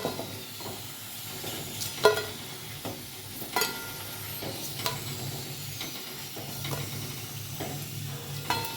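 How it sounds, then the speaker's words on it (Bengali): Pieces of pointed gourd sizzle and hiss in hot oil, with occasional sharp clinks and scrapes of a spatula stirring the pan, fairly close. "পটলগুলো ভেজে নিচ্ছি।"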